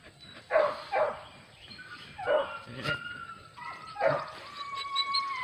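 A puppy barks and yips in several short separate bursts close by indoors, mixed with a few softer whimpers, and quiet gaps between them.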